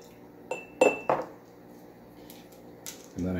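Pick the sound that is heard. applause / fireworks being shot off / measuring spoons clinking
measuring spoons clinking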